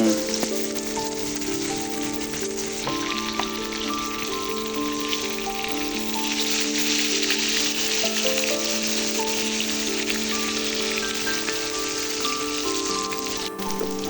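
Fish pieces frying in hot oil in a pan, Nepali style, give a steady dense sizzle and crackle like rain, continuous and close, with a faint tonal hum underneath and no talking.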